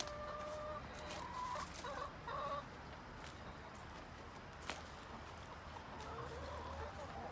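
Hens cluck in a backyard coop in the morning, with short clucks in the first few seconds over a steady outdoor hiss and no talking.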